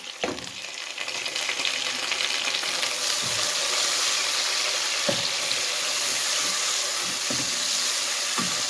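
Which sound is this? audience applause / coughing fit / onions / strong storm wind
onions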